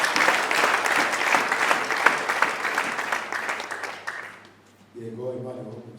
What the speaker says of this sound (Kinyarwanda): Bakomera Imana amashyi.